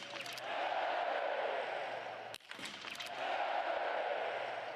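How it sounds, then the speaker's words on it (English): Biathlon spectators at the Ruhpolding World Cup men's 20 km race cheer in a steady, broad crowd roar that holds for several seconds, briefly dips, then swells back up, sounding fairly distant and diffuse. "Crowd loves it."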